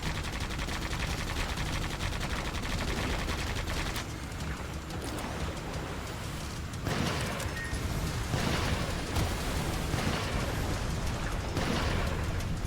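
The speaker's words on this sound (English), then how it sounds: "Says the guy spamming his machine gun." Rapid machine gun bursts in a video game fill the clip, dense and loud throughout, with a brief lull around the middle before the sustained firing resumes.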